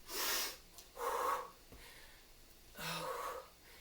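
Heavy, effortful breaths during a glute and core workout come in three or four loud exhales, each a rushing puff separated by short pauses, close to the listener and with no talk.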